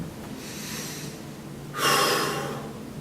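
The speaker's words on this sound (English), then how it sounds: "2 deep breaths" Two deep breaths taken during a foam roller exercise for posture and back pain, a softer airy inhale followed by a louder, fuller exhale, close and unaccompanied by talk.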